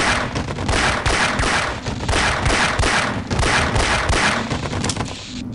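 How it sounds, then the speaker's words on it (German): Rapid bursts of gunfire in the video game Half-Life: Opposing Force crackle loudly and almost continuously, volleys of shots overlapping with brief dips between them. "Drei Schüsse reichen aus, ob der Weg stabil ist oder nicht."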